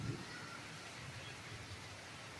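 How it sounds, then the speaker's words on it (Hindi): Steady rain falls outdoors in Bhagalpur, a soft, even hiss that stays constant throughout, with no voices over it. "आज भागलपुर में बारिश हो रही है"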